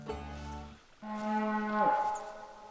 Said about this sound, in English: Is that moose? That is moose. That is a tiny bull moose.